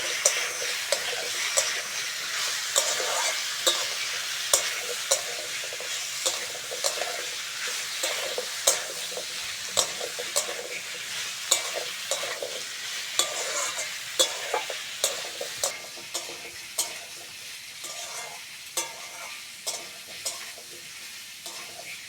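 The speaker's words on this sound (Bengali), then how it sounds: "এঁচড়ের সঙ্গে ডাঁটাটা হালকা করে ভেজে নিয়েছি" Jackfruit and drumstick stalks, with onion, are lightly fried in a pan and stirred steadily, a constant sizzle broken by frequent regular scrapes and clicks of the spatula, close and continuous with no talking.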